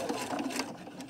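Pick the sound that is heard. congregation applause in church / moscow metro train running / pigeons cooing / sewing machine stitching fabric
sewing machine stitching fabric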